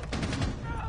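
Gunfire in the video game Rainbow Six Siege, a quick run of shots with rapid repeated bursts, mid-distance and fairly loud, ending with a sharper hit.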